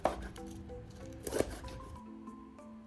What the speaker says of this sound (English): And cut some chilies